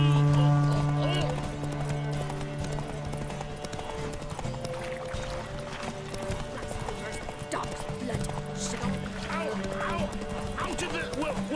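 Roach gallops in The Witcher 3 during a horse race, with fast, driving hoofbeats pounding steadily over sustained game music and a whinny mixed in.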